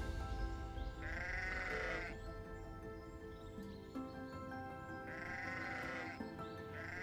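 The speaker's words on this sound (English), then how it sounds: "the trail, meanwhile, crosses private land where sheep graze undisturbed" Sheep bleat beside a hiking trail that crosses private grazing land in New Zealand: two drawn-out bleats, roughly a second each, rise clearly over a steady outdoor background with a few quieter calls between them.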